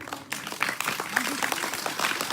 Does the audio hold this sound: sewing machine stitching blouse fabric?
no